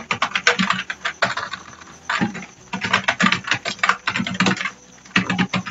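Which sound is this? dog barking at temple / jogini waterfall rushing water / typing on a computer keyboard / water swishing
typing on a computer keyboard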